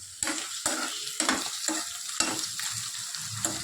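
Onion sautéing in a pan with a steady sizzle of frying, broken by repeated scraping strokes of a spoon stirring every half second or so, close and fairly quiet.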